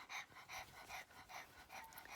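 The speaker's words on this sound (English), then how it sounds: "I think she's hot because it is a little warm in the room. But this is one of my dogs, Whitney." A pet dog pants in a warm room, short breathy bursts repeating steadily at close range, fairly quiet, with no talk.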